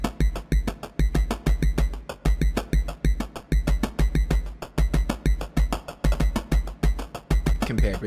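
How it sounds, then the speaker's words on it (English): A produced drum track plays on its own: punchy kicks and crisp snare and hat hits in a fast, steady, looping pattern, loud and dense throughout. "Here's drum, like the very first drums you hear."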